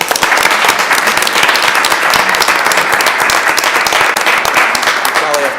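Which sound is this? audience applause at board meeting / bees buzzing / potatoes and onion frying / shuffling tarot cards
audience applause at board meeting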